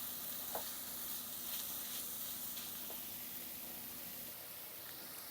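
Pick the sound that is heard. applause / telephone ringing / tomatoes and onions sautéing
tomatoes and onions sautéing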